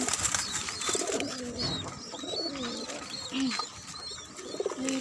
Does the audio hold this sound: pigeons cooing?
yes